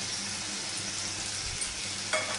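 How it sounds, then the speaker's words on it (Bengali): Two slit green chillies hit hot spiced oil in a pan of brinjal and pabda fish curry base, giving a steady, close hiss of frying with a brief louder crackle near the end. "এবার দিয়ে দেবো চেরা 2টো লঙ্কা।"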